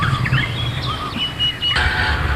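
Ostrich chicks kept in a pen give a few short, high chirping calls in quick succession, close by and fairly clear, with no voices.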